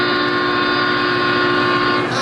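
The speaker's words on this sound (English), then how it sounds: "Oh my God, train!" A passing train in the BeamNG.Drive driving game, a loud steady tonal rumble that holds through the clip and shifts slightly near the end, with no talk over it.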